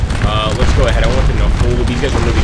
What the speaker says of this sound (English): Look at those exploding shells.